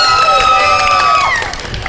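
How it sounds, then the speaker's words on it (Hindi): A studio audience at a Ramadan iftar game show breaks into loud cheering and clapping, a dense crowd roar with whistles and shouts that eases off slightly at the end. "बहुत सारी तालियां"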